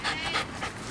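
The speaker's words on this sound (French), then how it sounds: "ces petits chiens-là, c'est des terriers aussi" A small terrier pants quickly and closely in a Paris park, a rapid rhythmic series of breathy huffs with no talking.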